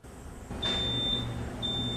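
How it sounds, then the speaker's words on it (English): A malfunctioning fire alarm gives a thin, high electronic beep twice, with a brief gap between tones, over a low background hum. "returned to the sound of constant beeping emanating from the west entrance of Rocloud Hall"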